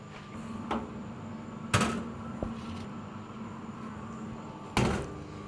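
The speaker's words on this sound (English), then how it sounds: "So I'm going to open these doors, I'm going to grab that brisket" Doors of a pellet grill being swung open during a brisket smoke, giving a few sharp knocks and clunks over a steady low hum of the running grill, fairly close and with no talk.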